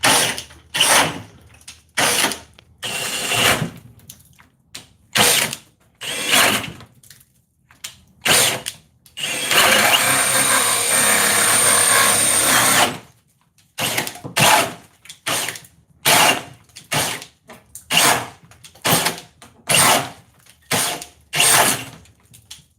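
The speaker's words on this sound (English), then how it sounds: "I'm just trying to keep the drill level." A cordless drill runs in repeated short bursts of a few seconds each, with one longer sustained stretch of loud, gritty whirring under load in the middle.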